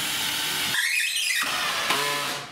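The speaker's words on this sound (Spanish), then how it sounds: "Esos son mis puntos para perforar esta tabla." Whining power drill boring into a wooden board during a mountain bike manual machine build, a loud motor pitch that shifts as the bit bites and then eases, briefly rising and falling.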